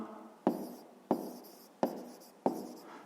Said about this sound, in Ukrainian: Пишемо тоді, отже, записуємо